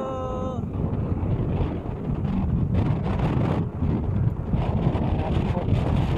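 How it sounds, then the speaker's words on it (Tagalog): Strong wind buffets the microphone outdoors in a continuous, heavy rumble that stays loud throughout, with a brief tonal sound at the very start. "So, malakas ang hangin, guys."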